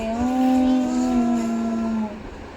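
A child's toy car being driven gives a close, steady electric whine that holds for about two seconds and then fades out. No one speaks.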